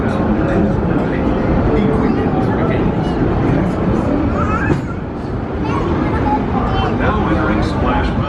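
The Disneyland Railroad train at Disneyland Park rumbles steadily along the tracks with a low continuous roar, while people talk and chatter in the background.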